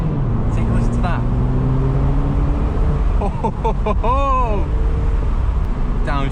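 A 2021 Mini Cooper S Convertible engine and exhaust roar loudly from inside the moving car, with rising and falling revs and gear changes, while a voice speaks over it.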